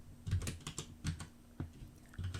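Keys clatter on a computer keyboard in short irregular bursts of soft, fairly quiet clicks with brief gaps, close to the microphone and with no voices.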